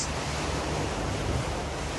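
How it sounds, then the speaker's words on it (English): Ocean waves break at a reef pass on Rangiroa atoll, heard as a constant, dense roar of surf mixed with wind noise, continuous and without voices. "out there where those waves are breaking"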